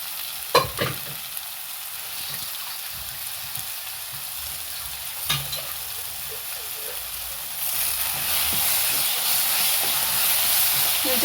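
Mushroom masala frying in a pan, with a steady hiss and sizzle broken by a few sharp clicks of stirring, and the sizzling growing noticeably louder and fuller in the last few seconds.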